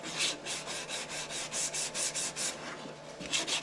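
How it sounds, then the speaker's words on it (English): Sandpaper is rubbed by hand over a wooden box in a steady back-and-forth rhythm, about a dozen soft, close strokes with a brief pause near the end and no voices. "Let's get the hand sandpaper. Let's give it a little touch"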